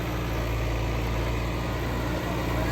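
A New Holland 850 tractor pulls a heavily loaded sugarcane trolley up a road incline, its engine a loud, steady, low diesel drone that holds constant throughout.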